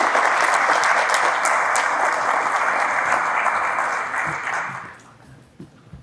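An audience applauds at a fire department call and volunteer recruit graduation ceremony. The clapping is dense and sustained, then fades out near the end, leaving a few scattered claps.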